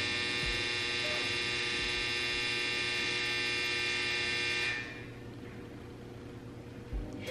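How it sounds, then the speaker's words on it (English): A clothes dryer running indoors gives a loud, steady droning hum that drops to a quieter rumble near the end, with no talk. "It was literally just my dryer"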